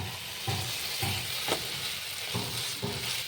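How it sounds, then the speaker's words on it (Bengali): Tomato, capsicum and masala fry on a tawa for egg tawa fry, a steady close sizzle broken by rhythmic scraping stirs of a spatula. "এগুলো একটু ভেজে নিচ্ছি"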